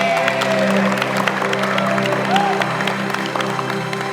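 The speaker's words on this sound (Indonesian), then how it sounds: "Tepuk tangan dulu dong." A crowd in a badminton hall applauds a visiting Olympic champion, a dense steady patter of many hands clapping with scattered cheers, loud and sustained throughout, mixed with background music.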